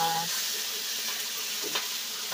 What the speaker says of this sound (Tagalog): So, ito yung isda na ipiprito ko ngayon.